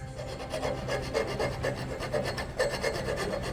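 Filing or sharpening from a scene in the TV show Andor: repeated, rhythmic rasping strokes that scrape back and forth at a steady pace, close and fairly loud, with no talking.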